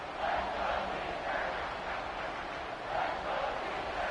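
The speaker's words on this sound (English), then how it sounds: "here comes the noise. This crowd is trying to inspire this defense to make a big red zone stop" Stadium crowd noise in a college football video game, Maryland versus USC, builds during a red zone defensive stand. A broad, distant roar swells and surges in waves, with no commentary over it.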